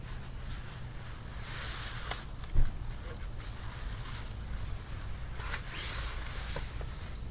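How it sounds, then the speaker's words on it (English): The zipper on an Equip budget bug-out hammock from Walmart is pulled in two short, quiet zipping bursts over faint outdoor breeze and background hiss. "bring one zipper towards you a little ways"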